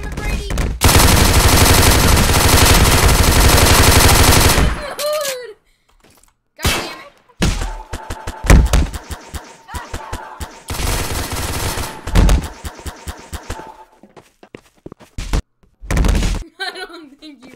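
Video game gunfire: a long loud sustained burst of automatic fire, then stop-start volleys of shots and thuds separated by brief silences.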